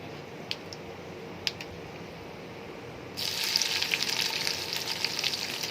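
Chopped onions and green chilies hit hot oil spiced with five-spice seeds, and a loud steady sizzle bursts in halfway through after a quieter start with faint clinks.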